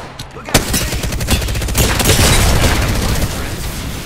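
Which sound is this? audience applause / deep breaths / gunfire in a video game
gunfire in a video game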